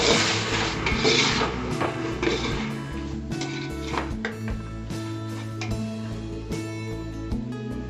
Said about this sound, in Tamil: ஆட் பண்ணி நல்லா ஒரு வாட்டி மிக்ஸ் பண்ணி விட்டுருங்க